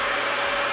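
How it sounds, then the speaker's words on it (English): A central vacuum system roars loudly and steadily inside a 2023 Forest River Ibex 19QBH bunkhouse travel trailer, a constant close-up whine with no voices. "Along with that, we're gonna have our central vac."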